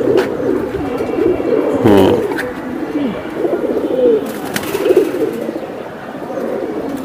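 A silver Giribaj pigeon coos in repeated rolling, throaty phrases close by, with a short burst of wing flutter partway through and faint voices in the background.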